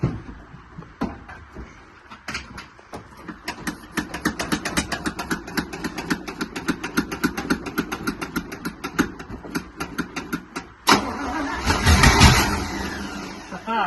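A 1968 327 small-block V8 with a changed intake cranks over in a steady rapid chug for about ten seconds, then catches and fires into a loud, rough idle up close.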